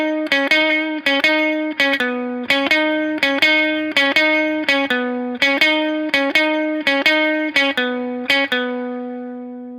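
An electric guitar picks a quick rhythmic riff, with crisp repeated note attacks in a steady pattern that ends on one sustained ringing note. The tone is clean but bright, with no voices.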